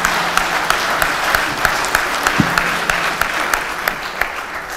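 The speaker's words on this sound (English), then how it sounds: "Give them a round of applause" An audience at a fisheries and aquaculture committee hearing gives a round of applause, a dense, steady patter of clapping hands with sharper individual claps standing out across the whole stretch.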